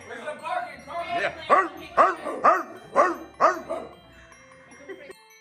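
A man imitates a dog barking with his voice. He gives a run of about six loud, rhythmic woofs close to the mic, then trails off into quieter vocal noises.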